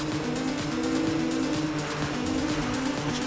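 A car drifts in Need For Speed Rivals with a strained, droning engine and a continuous tire squeal and skid. The sound is loud and close and holds steady through the short stretch.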